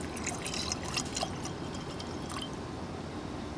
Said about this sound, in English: I'm going to add one part glycerin to four parts rubbing alcohol